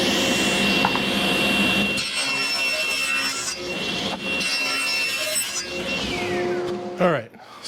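Hand sawing of wood pieces being cut for a Coleman heater box, a steady rasping stroke texture running loud and close for most of the clip, with a brief pause and a final clatter near the end.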